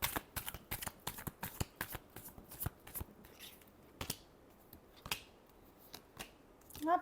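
Tarot cards are shuffled by hand up close, a rapid run of crisp riffling slaps and flicks that slows into scattered soft taps, quiet and with no talking.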